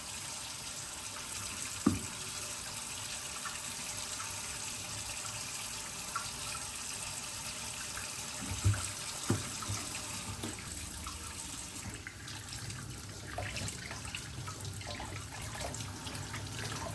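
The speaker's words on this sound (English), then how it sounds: "So this is part 2 out of 5 that you basically just rinse." Water runs steadily from a tap as a detachable part of a Ninja cold press juicer is rinsed in a sink, with a few soft knocks of the part against the basin over the continuous flow.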